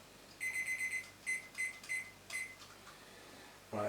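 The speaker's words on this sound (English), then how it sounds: "Let's get my timer out." A kitchen timer sounds a run of rapid high-pitched electronic beeps, then several shorter bursts at uneven gaps, close and clear in a quiet kitchen.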